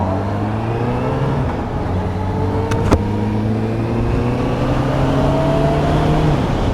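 A vehicle engine hums steadily nearby with a low droning tone, its pitch shifting gradually as it moves past, accompanied by a brief sharp click partway through.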